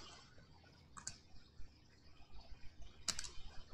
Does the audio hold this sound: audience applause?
no